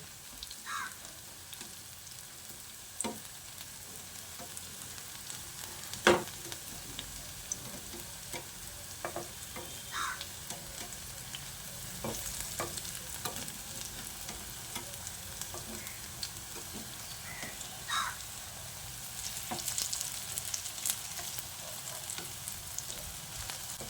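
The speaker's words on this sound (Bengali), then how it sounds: "বড়াগুলোকে এইভাবে উল্টে পাল্টে বেশ লালচে করে ভেজে নেবেন" Potato fritters fry in oil over low to medium flame, giving a quiet, steady sizzle punctuated by occasional spatula clicks and scrapes as they are turned.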